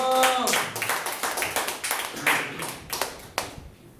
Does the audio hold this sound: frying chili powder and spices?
no